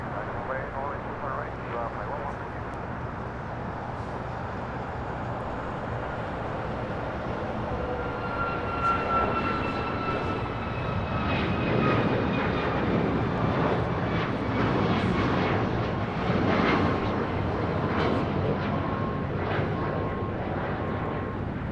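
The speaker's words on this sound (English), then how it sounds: "Flight 1883 taking off to Miami on a MAX 8." An American Airlines Boeing 737 MAX 8 takes off at LAX bound for Miami, its jet engines swelling into a loud, rising roar that builds toward the middle and holds, heard from nearby.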